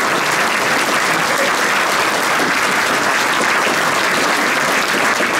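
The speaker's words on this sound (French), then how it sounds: "je vais vous laisser applaudir Dominique" An audience at a mayor's New Year address in Gron, Burgundy, applauds loudly and continuously for several seconds, a dense, even wash of clapping with no pause.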